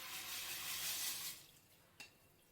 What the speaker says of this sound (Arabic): فغادي نخوي الرز